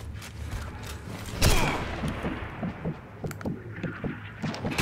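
Gunfire at a command post in the World War II shooter game Sniper Elite V2: one sharp report, then a run of rapid, fairly faint clattering shots under a steady background.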